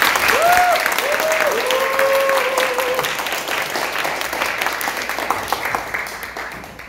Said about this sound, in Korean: 여러분 인호군한테 박수 한번 주시죠